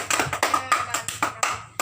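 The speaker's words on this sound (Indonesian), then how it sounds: "ya tepuk tangan lagi" A short burst of clapping from a group of students, quick uneven claps repeating for under two seconds, fairly close.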